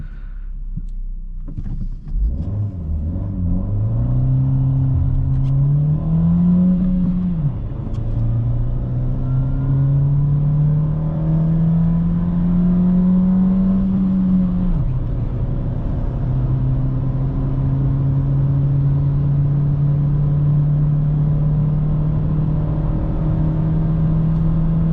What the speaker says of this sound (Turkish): Şimdi bir 0-100 testi yapacağız arkadaşlar.